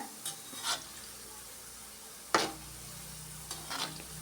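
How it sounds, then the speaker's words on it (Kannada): Gulab jamun frying in oil on a low flame, a soft continuous sizzle with a few brief stirring scrapes and clinks of a spoon against the pan, close and quiet, with no talk. "ಈ ಥರ ಕಡಿಮೆ ಉರಿಯಲ್ಲಿ ಫ್ರೈ ಮಾಡ್ಕೊಬೇಕು ನಾವು ಒಳಗಡೆ ಎಲ್ಲ ನೀಟಾಗಿ ಬೆಂದಿರುತ್ತೆ"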